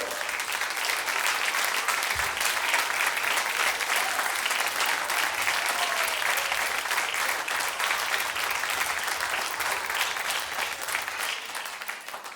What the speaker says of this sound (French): Je demande aux membres du bureau de se lever pour qu'on vous applaudisse également.